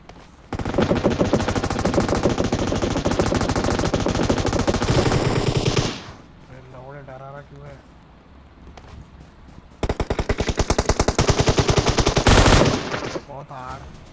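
A DP-28 machine gun in PUBG sprays long, rapid, loud bursts of automatic fire, then pauses briefly before another sustained burst. Short vocal sounds are heard in the gap between the bursts.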